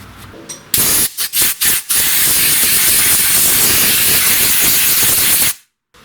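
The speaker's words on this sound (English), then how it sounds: "And I'll just clean everything with brake cleaner here." Brake cleaner sprays from an aerosol can onto a Craftsman lawn tractor engine, first in four short bursts and then in one long, loud, steady hissing blast lasting several seconds before it cuts off.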